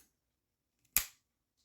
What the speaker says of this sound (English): And then shutter will fire